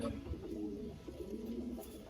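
A large male pigeon held in the hand gives soft, low coos and rumbles through the moment, faint and close, with a brief rustle at the start.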